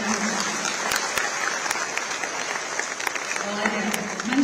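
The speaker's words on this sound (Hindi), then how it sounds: "जोरदार तालियां।" Sustained applause from a ceremony audience welcoming a guest to the stage, an even wash of many hands clapping throughout, with a few sharp individual claps standing out.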